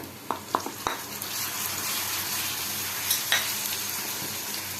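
Ginger garlic paste sizzles with onions and Kashmiri chili powder in a hot pan: a steady, close frying hiss with a few light scrapes of stirring, and no voices.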